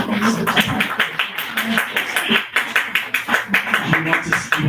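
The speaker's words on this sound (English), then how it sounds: "Let's give applause to" A small open-mic audience at Books on Main claps for a reader, Darlene Hessel: steady, close, uneven hand claps with distinct individual slaps, continuing for several seconds with faint voices underneath.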